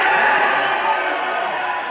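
A convention audience at TFCon LA cheers and hollers in a loud, sustained roar that fills the room and fades slightly toward the end.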